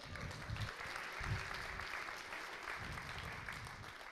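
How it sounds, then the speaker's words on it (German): Audience applause at an ideas night on an innovation campus in Lohne, a steady, fairly faint wash of many hands clapping from across the room, with low voices and rumble underneath. "Kleinen Applaus einmal"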